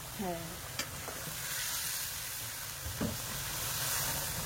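Soft, continuous sizzling and hiss from food frying in a pan, with a few quiet clinks and a brief voice near the start.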